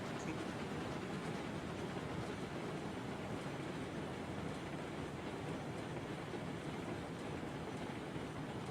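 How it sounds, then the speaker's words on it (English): A long freight train rolls past steadily in Railroads Online, a continuous broad rumble and clatter holding at an even level throughout with no breaks. "Man, that's a long train"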